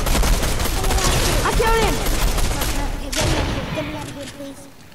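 Rapid bursts of gunfire in Fortnite, loud volleys that come in two clusters with a brief gap between them, while people talk and shout excitedly over the shooting.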